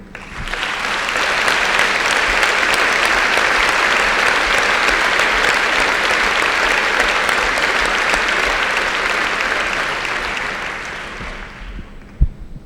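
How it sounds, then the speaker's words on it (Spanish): Audience applause at the 2016 Gallegos del Año awards ceremony: a long, thick roar of many hands clapping. It holds steady for over ten seconds before fading, then a single sharp knock sounds near the end. "pedir de todos vós un aplauso para o que me parece que non é o galego do ano, senón o galego do século, Alberto Núñez Feijóo"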